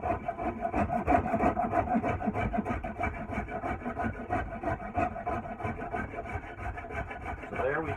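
A gouge scrapes and carves the flared end of a wooden tool handle in a woodshop, giving a continuous close rasping and scraping with rhythmic strokes throughout.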